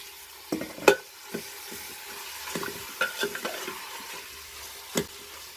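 Free-range chicken frying in coconut fat: a soft steady sizzle runs underneath while a utensil stirs and scrapes the pan in a few separate knocks, the loudest near the start and another near the end, with no talking.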